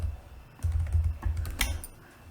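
Fingers tap out a short burst of typing on a computer keyboard, soft close keystrokes in a few quick clusters with brief pauses between them.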